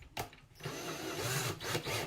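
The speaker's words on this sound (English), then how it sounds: "I'm gonna put a new drill bit in here." A new bit is fitted into a power drill in a woodworking shop making wooden flip-flops: a short click, then about a second and a half of steady whirring, rattling mechanical noise, close and fairly loud, with no talking.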